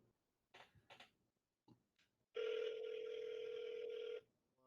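A phone call ringback tone, a single steady electronic beep held for about two seconds, preceded by faint clicks and soft handling noises, heard quietly through a phone line.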